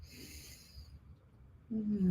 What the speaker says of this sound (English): Let's take a nice deep breath, just breathing in